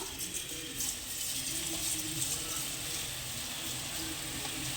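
Coconut murukku dough pressed into hot frying oil, giving a steady, close sizzle with a bright crackling hiss that holds evenly for several seconds, with no talking over it.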